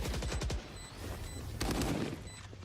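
Gunfire in a Valorant esports match: a quick burst of rapid shots at the start, then a louder single crack with scattered game effects behind it.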